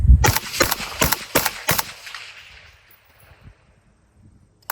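Five sharp shots from a Sandman gas gun fired up close at a quick pace, each crack evenly spaced over about two seconds, followed by quiet with faint background rustle.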